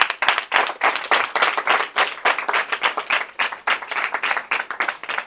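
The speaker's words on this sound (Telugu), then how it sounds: "give big claps to Jesus Christ" A church congregation at a Sunday sermon claps together in a dense, rhythmic burst of applause, loud and close, lasting several seconds with no talking.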